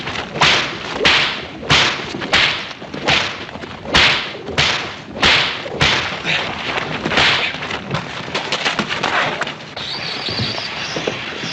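Repeated sharp whip cracks in a Western ranch brawl, about a dozen loud snaps in an uneven rhythm over several seconds, then a rough scuffling hiss.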